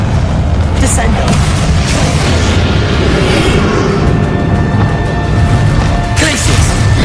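Descendo spell cast in Hogwarts Legacy, part of rapid wizard duel combat: a dense run of booming magical impacts and crashes over a continuous wash of battle noise, with a voice shouting spell names throughout.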